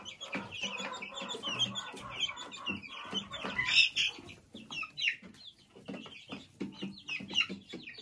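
Young chicks housed at a dacha cluck and peep continuously, a busy cluster of close, overlapping chirps with scattered sharper calls and no talk.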